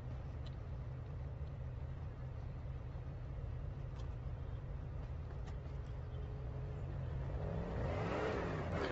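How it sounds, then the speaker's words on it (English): A muscle car engine in the Police Simulator patrol game runs steadily with a low, loud rumble, then swells into a rev near the end. "It's a proper muscle car, though."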